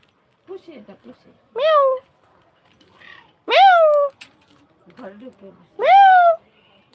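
Three distinct rising-falling cat meows, loud and close, spaced a couple of seconds apart in a village setting near a young goat, with faint murmuring or soft voice-like sounds between calls.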